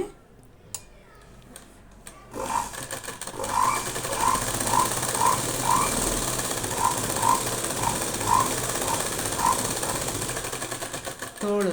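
A sewing machine stitches a blouse sleeve. It follows a couple of seconds of quiet handling, then settles into a close, steady whir with regular ticking clicks until the end.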